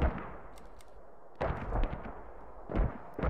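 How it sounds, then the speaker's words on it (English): Mortar rounds fire and land in the military shooter Squad, coming as several sharp, heavy booms spaced about a second apart with rumbling tails, loud and fairly close. "Oh, there's the mortar."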